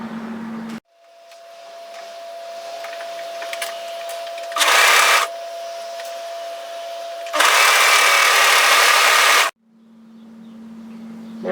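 An overlocker serges a raglan seam on a crossover top, running in two loud sustained bursts between quieter stretches of steady mechanical hum, close by with no talking.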